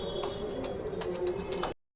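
A Madras pigeon coos close by, a soft, steady throaty murmur that repeats for a couple of seconds before cutting off.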